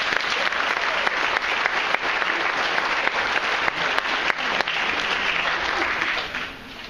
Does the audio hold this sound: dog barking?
no